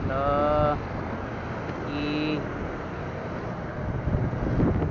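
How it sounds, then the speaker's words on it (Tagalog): Steady wind rumbles and buffets across the whole clip, broad and noisy, with a few brief tonal whines over it and no clear talk. "Ang lakas ng hangin, oh."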